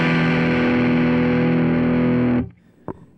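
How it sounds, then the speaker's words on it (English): Sustained electric guitar chord through a Diamond Cornerstone overdrive pedal set to distortion, thick and gritty, ringing for a couple of seconds before cutting off abruptly, followed by a faint click. "This is the Cornerstone set to a nice little distortion."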